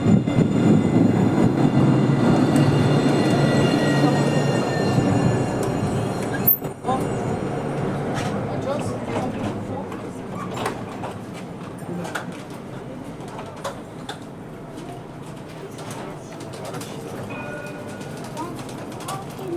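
A Montpellier TAM line 3 tram arrives at Celleneuve station, a loud rumble that slowly fades as it pulls in, followed by squeaks and clicks, with birds calling and people talking nearby.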